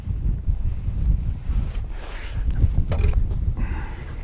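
Wind gusting on the Cornish coast near the Botallack, Levant and Geevor mines, a loud buffeting roar against the microphone that rises and falls in uneven gusts with no talk.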